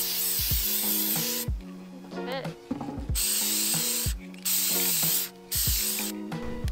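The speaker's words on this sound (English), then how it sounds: "once I'm done using the shovel, I'm going to use this WD-40 Specialist Corrosion Inhibitor" Repeated bursts of WD-40 Specialist Corrosion Inhibitor sprayed onto a shovel before storage, several loud hissing blasts separated by short pauses, with faint handling noises in between.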